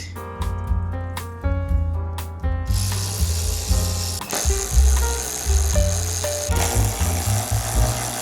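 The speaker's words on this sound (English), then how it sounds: "So now I just gotta remove these. These are 10mm screws." A ratchet backs out 10mm screws holding plastic car trim, making close, crisp bursts of rapid clicking separated by short pauses, then longer runs of clicks over a steady mechanical rattle.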